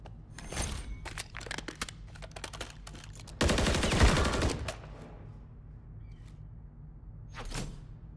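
Gunfire in a shooter video game: rapid clusters of sharp shots in the first seconds, then a dense loud burst of automatic fire, tapering into scattered distant shots.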